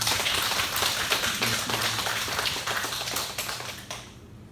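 A church congregation at a Sunday service claps in dense, steady applause that is loud and close, then thins and fades toward the end.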